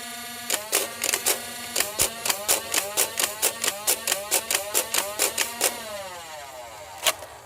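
Big Power Electric 508 Nerf blaster firing Dart Zone waffle head darts in a rapid, steady full-auto burst of about twenty shots over a whirring motor hum, then a pause and one final shot.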